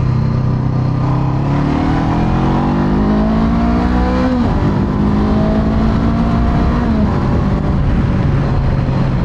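A small-displacement 2021 Honda CB500X motorcycle engine pulls hard under acceleration, its rising pitch climbing steadily, dipping briefly at a shift, then climbing again, loud and close with wind noise throughout.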